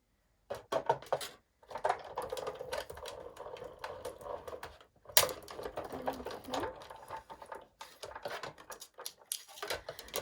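Sizzix Big Shot Foldaway die-cutting machine pressing two layers of green cardstock, a close, steady mechanical whir and grinding as the handle is cranked, with brief pauses between passes and no talk.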